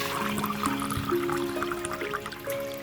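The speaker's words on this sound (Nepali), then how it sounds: "यसरी अब भिजिसकेको मेथीलाई चाहिँ हामीले एउटा जाली बाटामा राखेर यसको पानी पुरै तर्काउने छौँ।" Water trickles and drains steadily from soaked fenugreek seeds set in a mesh strainer bowl, a close, continuous wet patter with a faint steady hum behind it.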